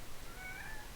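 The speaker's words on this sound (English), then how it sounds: "Sorry, my cat's very chatty today." A pet cat gives a single short, faint meow indoors, rising briefly above a low background hum.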